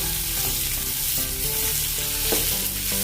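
Small boiled potatoes fry with cumin seeds in hot oil. A dense, continuous sizzle is punctuated by occasional clinks and scrapes of stirring, close and fairly loud, with no voices.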